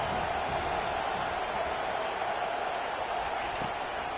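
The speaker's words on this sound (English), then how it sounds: "Decibels rising as the crowd gets behind this defense on third down." A stadium crowd at a college football game roars steadily on third down, a dense sustained wash of noise without clear breaks.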